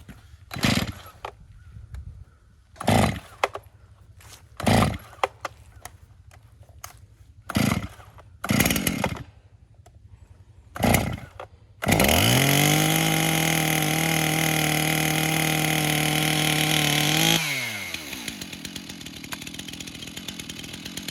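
A chainsaw with a 20-inch bar being started on full choke outdoors by a creek: about seven loud separate pull-start bursts, then the engine catches and runs at a steady high roar for several seconds before dropping to a rough idle.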